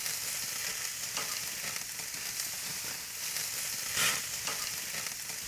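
Chops browning in a pan, a dense, steady sizzle with a brief louder spit near the end, close and without talk.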